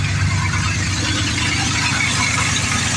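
A truck engine idles steadily with a deep, even low rumble and a faint ticking hiss from a small exhaust leak, close and continuous with no talking.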